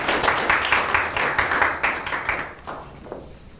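Audience applause at a Korean council training lecture: a room of people clapping steadily in rhythmic bursts, close and fairly loud, then tapering off toward the end.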